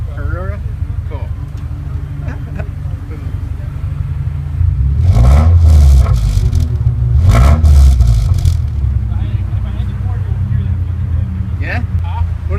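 A Mazdaspeed3 engine with valve tap idles with a low rumble and rises in two short revs, while people talk nearby over it.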